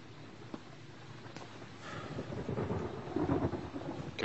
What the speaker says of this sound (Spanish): Qué buenos efectos de trueno.